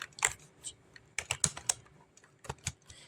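Code being typed on a computer keyboard while solving a string-addition programming problem: close, crisp keystrokes in irregular bursts and short clusters with brief pauses, no talking.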